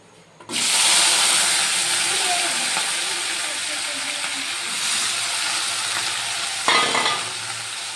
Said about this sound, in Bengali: এবার পেঁয়াজগুলোকে আমি তেলে দিয়ে দিচ্ছি